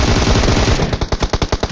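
Automatic gunfire in a battle royale video game rattles loud and close as a long, rapid burst of shots, the rhythm becoming more distinct and choppy toward the end.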